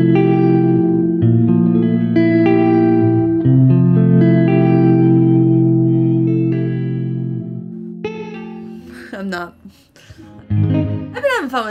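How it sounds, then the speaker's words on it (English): Sustained guitar chords through a Catalinbread Cloak pedal ring out with a soft room reverb and a faint shimmering halo, then sparser plucked notes and brief strums toward the end. "Let's try it with the room reverb and the shimmer at about 9 o'clock."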